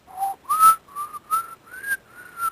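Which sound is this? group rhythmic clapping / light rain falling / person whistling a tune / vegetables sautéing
person whistling a tune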